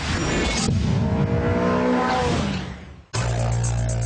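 A Renault Sport Twingo 133 Cup hot hatch with 17-inch alloys and lowered suspension is driven hard on a handling circuit, its engine droning loud and continuous, dipping briefly before surging back, with no talking.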